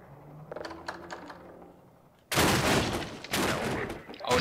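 Gunfire in the game Half-Life 2, a sudden loud burst of rapid automatic shots after a quieter stretch of keyboard clicking, close and harsh.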